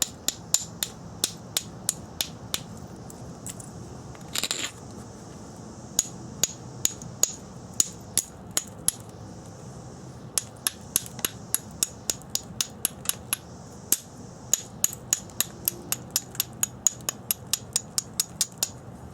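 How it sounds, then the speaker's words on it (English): Sharp stone-on-stone taps ring out as thinning flakes are knapped from a spall resting on an anvil. Dozens of crisp, close strikes fall in a fairly steady rhythm, with one brief scraping rub partway through. "Just start driving your thinning flakes along on there."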